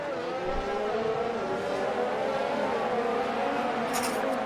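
Formula 1 race cars in a racing video game, a Red Bull chasing a Mercedes, their engines droning steadily with rising and falling pitch as they run close together, with no talk over it.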